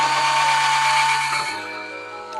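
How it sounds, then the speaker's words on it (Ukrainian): A cordless drill-driver bores a hole to mount a curtain, its motor whining loud and close in a steady tone that drops in pitch partway through as the bit bites, running alone without talk. "Беремо шуруповерт, дивимося, щоб штора не здвинулась з намальованої полоски, і сверлимо отвір"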